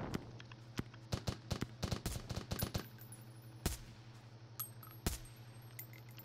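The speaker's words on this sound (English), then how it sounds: "I popped off the shot so they don't take off" Gunfire in the Roblox game on an Afghanistan Kandahar map: a run of rapid, sharp shots in quick bursts, then a few sparse single shots, fairly quiet overall and with no talking.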